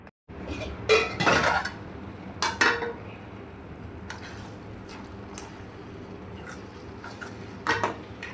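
Metal lid set onto a cooking pot of mussel roast, with a couple of loud clattering metallic clanks early on, followed by quieter scattered clinks and light taps over a faint steady hum.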